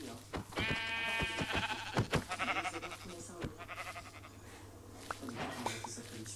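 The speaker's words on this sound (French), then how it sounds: "Oh, des moutons." Sheep bleat in a survival video game, with a loud, wavering cry up close followed by shorter bleats, and players talk over and between the calls.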